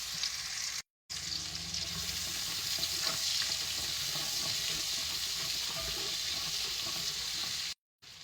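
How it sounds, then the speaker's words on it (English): Minced Vidalia onion frying in bacon grease for creamy potato soup, a steady hissing sizzle with soft stirring scrapes, broken by two brief silent gaps. "So now I'm gonna add half of a Valdelia onion, minced. Cook it down into that bacon grease."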